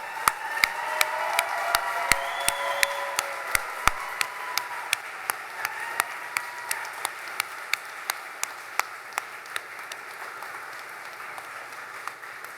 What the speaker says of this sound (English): please stand and give a big round of applause for all of today's Class 2306 graduates